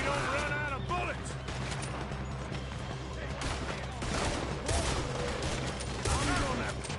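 Gunfire in Red Dead Redemption on PS4: rapid overlapping shots and volleys crackle throughout a busy firefight, mixed with game voices and background noise.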